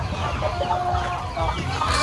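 Free-range chickens cluck steadily on a backyard farm before being released to feed, several birds overlapping in a continuous, moderately loud barnyard chatter with no talk.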